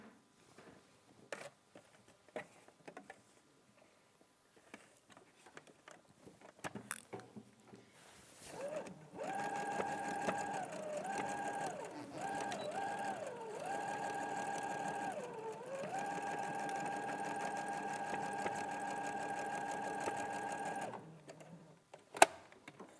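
A sewing machine stitches fabric in a steady, whirring run of about twelve seconds, its pitch briefly dipping as the speed varies, framed by quiet handling clicks and rustles before and after.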